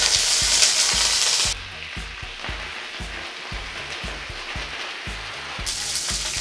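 Cumin seeds and curry leaves sizzling in hot oil, starting with a bright, loud crackle that drops to a softer sizzle under repeated light utensil taps, then flares up again.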